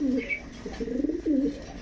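Silver-pattern Rajshahi pigeons coo in soft, repeated low rolling phrases, close by, with a brief faint chirp early on and a low background hum.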